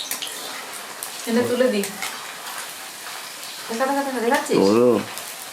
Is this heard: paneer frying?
yes